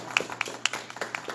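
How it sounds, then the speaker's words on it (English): Brief, scattered clapping from a few people at a community forum, with sharp individual claps rather than a full roar of applause. "And give her a round of applause."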